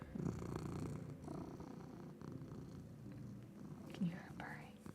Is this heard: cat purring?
yes